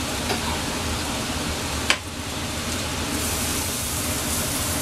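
Onions caramelizing with a pinch of salt in a pan give a steady, close sizzle throughout, with a brief sharp tap partway through; no voices.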